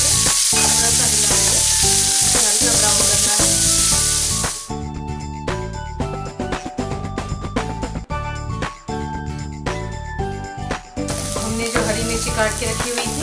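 Chopped onions hit hot oil with cumin seeds, starting with a loud, bright sizzle that fades partway through, while rhythmic clattering and stirring strikes continue close by and the sizzle swells again near the end.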